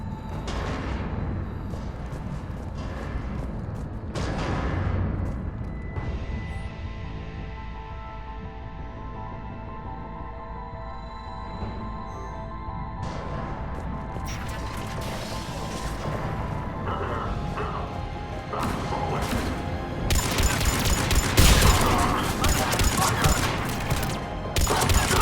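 Heavy cannon artillery and explosions from the video game Mass Effect 3, with repeated booming blasts and crashes, loud and dense, under game music and a voice speaking.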